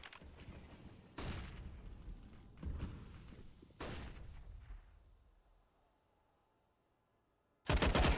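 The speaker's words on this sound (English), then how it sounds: "even though a flurry of bullets did follow" Gunfire in Counter-Strike on the Train map during an ESEA MDL match: several sharp bursts of shots, each ringing out and decaying, with quiet gaps between and a final loud burst at the end.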